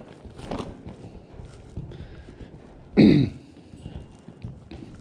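A black stallion gives a single sharp nostril blow, a loud breathy snort close by, amid quieter shuffling hoof and movement sounds during a training lesson.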